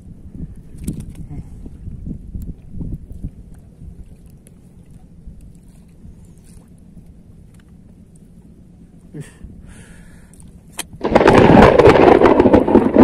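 Thunder in a storm during a fishing trip: faint low rumbles and wind under quiet surroundings, then a sudden loud, close crack and roll of thunder near the end.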